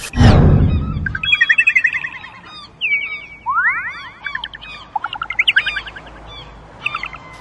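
Gulls on the Black Sea coast call loudly and close by in a run of sharp, rising, whistling cries and chirps, with a hard knock at the start and no talking.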